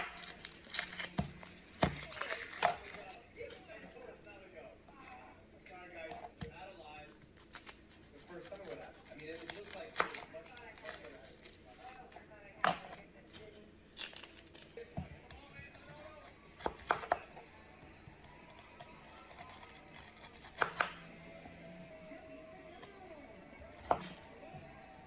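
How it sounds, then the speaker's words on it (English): Knife chopping an onion on a cutting board while making chicken pot pie, irregular close taps and cuts with crinkly rustles, a speaking voice heard at times between strokes. "Alright, let's chop the onion."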